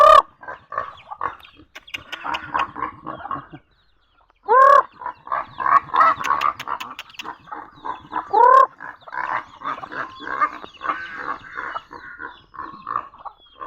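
Pet chickens cluck and squawk continuously at close range, a dense chorus of overlapping calls with a brief pause before resuming, as the birds crowd around on a rice farm.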